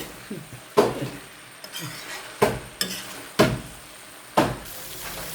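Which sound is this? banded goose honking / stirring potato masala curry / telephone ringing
stirring potato masala curry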